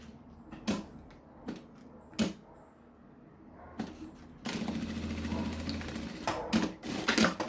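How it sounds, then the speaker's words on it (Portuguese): A sewing machine stitches a transparent pencil case. A few sharp clicks and handling knocks come first, then the motor runs in a steady close whir until the end. "E vamos costurar."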